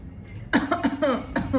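Several short, harsh coughs in quick succession, close by, after a brief quiet start.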